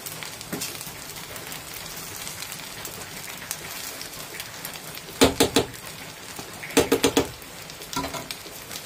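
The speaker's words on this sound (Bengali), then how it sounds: "গরম মশলাটা দিয়ে আমি একটু ভালো করে" A spoon stirs garam masala into vegetarian soybean pulao in a pot over a steady sizzle, with two short bursts of scraping and clatter near the end.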